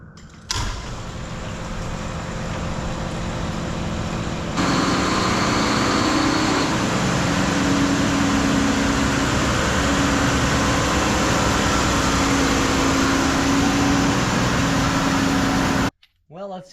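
A vehicle engine idles steadily to warm its oil before an oil change, a continuous low hum with a faint tonal whine holding near and even, broken only by a brief pause at the end.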